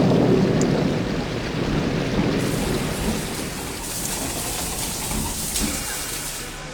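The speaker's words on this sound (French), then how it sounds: "Les orages, bien que de courte durée et violents, sont fréquents cette saison." Heavy rain pours steadily as thunder rumbles low and deep, the storm loud and close with a continuous wash of falling water.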